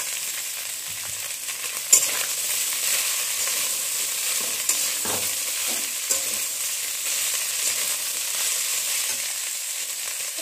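Ridge gourd peels stir-fried in a pan with fish, chili, garlic and onion give off a soft, steady sizzle, broken by a few sharp clinks of stirring.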